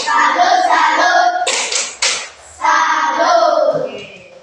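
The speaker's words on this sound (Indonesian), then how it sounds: "kita beri tepuk salut ya untuk kelompok 1" Children chanting and clapping in a classroom in a rhythmic cheer for a group, with loud group chanting broken by a short burst of sharp, close unison claps mid-way.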